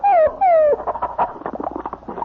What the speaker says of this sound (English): Oh, we have a dog now.